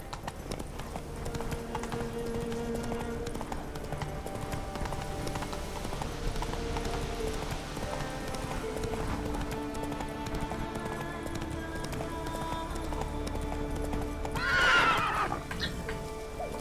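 Roach the horse gallops in The Witcher 3 game with steady rhythmic hoofbeats throughout, then gives a loud neigh near the end, over a constant game ambience.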